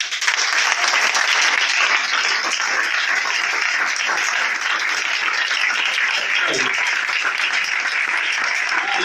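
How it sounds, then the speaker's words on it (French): A church congregation applauds and cheers loudly and steadily at a worship service, a dense continuous wash of clapping and voices filling the space from start to finish. "Je veux te sentir dans tes acclamations."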